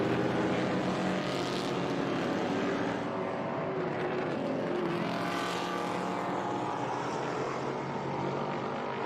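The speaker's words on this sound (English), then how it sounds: "Mercury Cougar XR7 against the Ford Mustang" A Mercury Cougar XR7 and a Ford Mustang race on the Laguna Seca track in SVRA Trans Am racing, a continuous distant engine roar that swells as the cars pass, steady and moderately loud.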